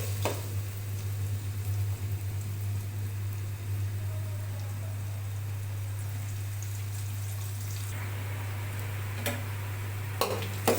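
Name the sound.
onions frying in a pan for biryani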